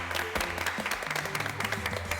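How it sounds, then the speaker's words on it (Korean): An audience claps warmly at a Korean talk-show taping featuring Taekwondo majors, a dense, even burst of applause that carries on steadily throughout without any talk. "박수 한번 주시죠"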